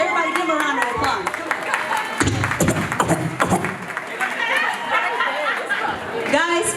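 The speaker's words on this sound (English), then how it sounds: "Everybody give him a round of applause" Guests at a traditional Acholi pre-wedding reception clap in scattered, uneven applause beneath busy crowd chatter and voices.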